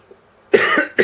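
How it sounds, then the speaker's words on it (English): Two sharp coughs close to the mic, the first longer and harsher, followed quickly by a second shorter one after a brief quiet start. "a bit of a cough at the moment"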